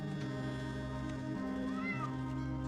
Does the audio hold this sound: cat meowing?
yes